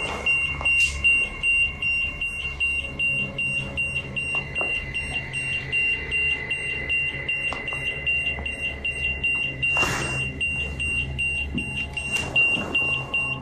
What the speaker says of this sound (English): they get another active reading on their EMF meter